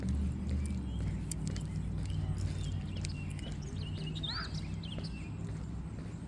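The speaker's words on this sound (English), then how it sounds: "Hear the birds chirping." A few birds chirp faintly in the distance, short high calls rising over a steady low rumble and some rhythmic clopping.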